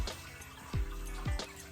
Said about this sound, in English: Just kind of let it drip, drip, drip.